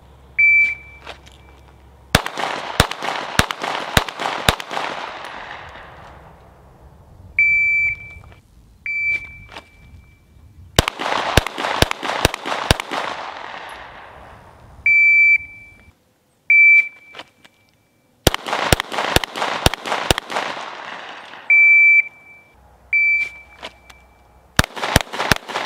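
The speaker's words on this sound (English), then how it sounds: "I'm going to go ahead and shoot it again with the par time, starting at 25, working my way into 5 yards" Handgun shots fired at a silhouette target in a timed shooting drill, moving in from 25 to 5 yards, come as three long strings of rapid sharp cracks separated by pauses, with timer beeps between strings.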